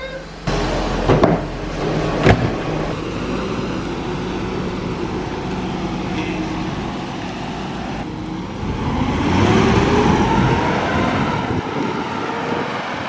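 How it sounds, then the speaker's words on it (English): A BMW E34 540i on a test drive after a new build, its engine and road noise a low steady rumble inside the cabin, with a few sharp knocks early on and wind noise swelling later. "So we're gonna go out for a little drive now, right Arm?"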